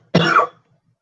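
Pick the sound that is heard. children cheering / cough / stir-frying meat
cough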